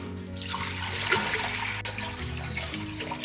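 Water pours steadily and loudly into a pot for a collagen-rich broth, a continuous rushing gush with a hollow filling resonance and no talk.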